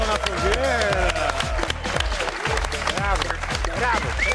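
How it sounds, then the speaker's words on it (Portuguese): A studio audience claps and cheers in dense, sustained applause for a TV game show segment, with excited voices and whoops rising over the steady clatter of hands. "Uma salva de palmas."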